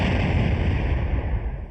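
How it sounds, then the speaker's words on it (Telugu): A mobile phone ringtone made to sound like a bomb explosion: a loud, continuous, booming blast-like roar that stays strong for nearly two seconds and fades slightly at the end, with no voices. "బాంబ్ కాదు, నా సెల్ రింగ్ టోన్."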